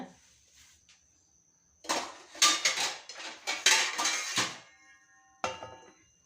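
A lid is set onto a cooking vessel in a kitchen, a cluster of close metallic clanks and rattles in quick succession after a quiet start, followed by one final clink.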